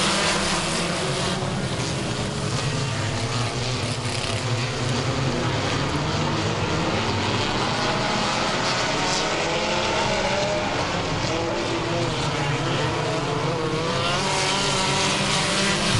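Buzzing four-cylinder dirt midget race cars drone continuously as a pack during a feature race, high-pitched and steady like a swarm, heard from trackside with no voices.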